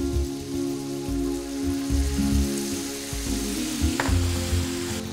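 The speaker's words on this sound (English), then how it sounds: "A little bit of sherry to cook it down even further." Chorizo cooking with sweet and hot paprika and a splash of sherry sizzles steadily in a pan, a loud continuous frying hiss with occasional bubbling pops, close and alone without any talking.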